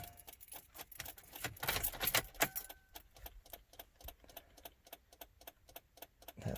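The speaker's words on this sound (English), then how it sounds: "put in the key, you can see how it makes that sound" A car key slides into the ignition with a rapid metallic jangle and clicking, followed by a steady series of ticking chimes from the dashboard, close and fairly quiet, with no talking.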